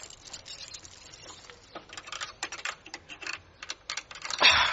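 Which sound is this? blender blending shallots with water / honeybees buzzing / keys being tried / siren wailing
keys being tried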